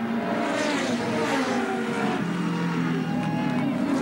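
A Ford Sierra touring car accelerates out of a corner at Lakeside in 1988 touring car racing, its engine rising in pitch under load amid other cars, with a commentator speaking over it.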